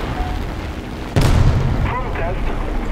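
Bombs from a biplane explode on a ground target in War Thunder: a sudden heavy boom lands partway through, followed by a sustained rumbling roar over steady engine drone.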